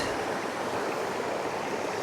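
Steady broadband rush of falling water at Black Linn Falls, a waterfall among rocks, continuous and fairly close with no breaks or voices.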